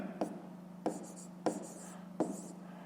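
Pen writing on paper during a fifth-grade maths exercise, heard as four short scratchy strokes spaced evenly apart, close and quiet over a low steady hum, with no talking.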